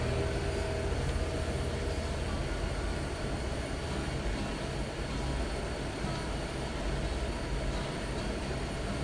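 A freight train in the Train Sim World 6 railroad game gathers speed, its steady, loud engine drone and rolling rail noise holding even and dense without any break.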